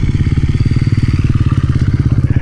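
A single-cylinder thumper adventure motorcycle at a dirt ADV rally, its loud, close engine pulsing in a rapid, even chugging beat throughout, with no voices.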